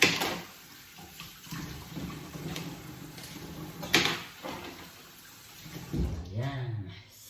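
Cold water runs from a tap while vegetables are washed in a backyard garden setting, a steady faint splashing stream with brief clatters, under occasional talk.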